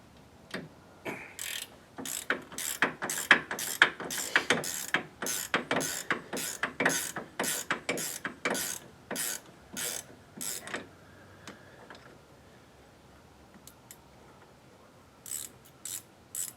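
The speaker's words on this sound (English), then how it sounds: "Gotta use a wrench to get into this one." A ratchet wrench works on the rear axle of a Polaris General, rapid clicking ratchet strokes in quick repeated bursts, loud and close, fading to a few scattered clicks near the end.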